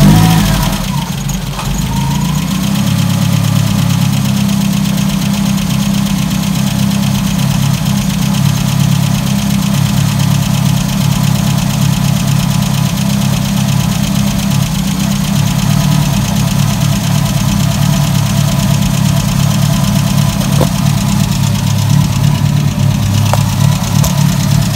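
A Volkswagen Gol G2 engine runs at a steady, even idle after starting, with a continuous low rumble and faint knocking vibration close by and no voices throughout.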